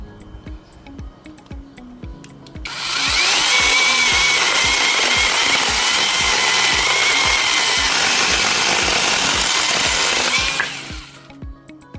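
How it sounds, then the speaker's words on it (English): Dasher chainsaw cutting through a piece of hardwood firewood: a steady ticking idle, then a loud sustained high-revving buzz for about eight seconds before it drops back to idle. "here's a piece of firewood. I'm just going to try to hold on to it while I cut through"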